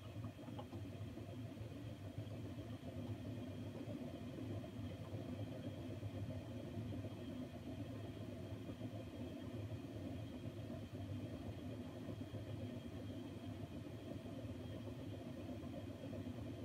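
An Indesit washing machine on its final 1600 rpm spin, a steady low rumbling drone that holds evenly throughout, fairly quiet and without voices.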